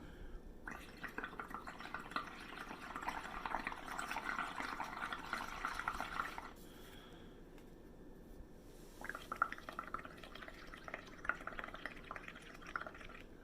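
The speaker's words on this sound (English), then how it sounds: "you can blow directly in to the water to make large bubbles appear in the bowl." Air blown through a straw into a bowl of water for bubble painting, a long stretch of bubbling and gurgling, a short pause, then a second bubbling burst, close and moderately loud with no talking.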